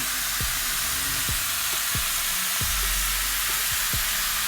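Sliced onions frying for Filipino bistek in a hot pan, a continuous bright sizzle with a series of soft scraping stirs repeating about once a second, close and alone without talk.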